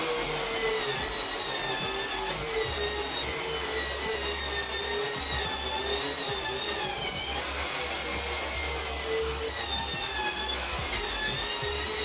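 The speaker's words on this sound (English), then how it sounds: "I'm gonna sand this real quick." A drywall sanding machine with an attached vacuum runs steadily and loudly for the whole stretch, a continuous whirring roar with faint whine overtones and no pauses.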